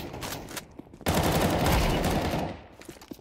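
Rapid gunfire from a tactical shooter video game bursts out in a dense, loud volley lasting over a second, framed by fainter scattered shots and game ambience.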